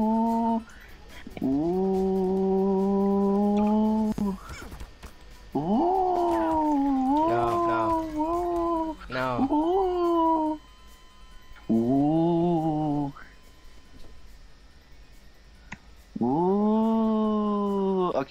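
Nyan Cat Gun firing in Garry's Mod, a series of loud, sustained, meow-like tonal bursts in bouts of a few seconds separated by short gaps, with brief sharp effects in between.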